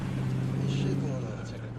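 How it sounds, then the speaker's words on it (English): A car zooms past on a suburban street in a film scene: a steady, fairly close rush of road noise over a low engine hum, lasting under two seconds and easing slightly toward the end. "you hear a car zooming past."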